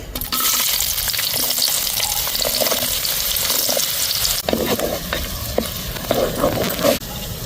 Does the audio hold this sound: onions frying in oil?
yes